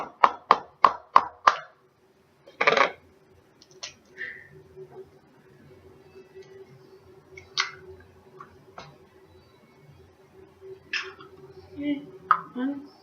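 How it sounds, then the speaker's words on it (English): Two large eggs cracked into a small bowl for a muffin batter: a quick run of sharp taps against the rim, then a louder crack and softer wet squishes, with a voice speaking briefly in between. "we'll add our 2 large eggs to the mix that we're going to crack in a small bowl"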